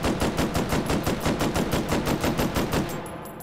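A gun fires in slow fire mode in the VR game Hot Dogs, Horseshoes & Hand Grenades, a loud, steady string of about fifteen evenly spaced shots over roughly three seconds, close up and with no talking.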